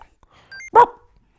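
A voice imitates a dog with a single short, gruff bark, preceded by a faint electronic tone from a Genesis/Mega Drive game playing softly in the background.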